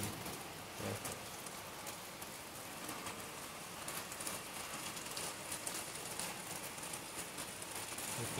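Steady rain falls outdoors onto a muddy lake and trees, including coconut palms, during the rainy season, an even, continuous hiss of drops close by with no voices.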